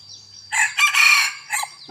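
A single fighting rooster crowing nearby, one loud cock-a-doodle-doo lasting about a second, with a brief trailing note.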